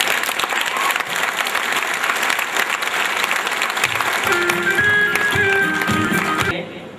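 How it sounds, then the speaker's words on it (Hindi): Audience at a seminar in a hall applauding steadily, a dense wash of many hands clapping together that fades out near the end. "एक बार ताली बजा देंगे थोड़ी देर।"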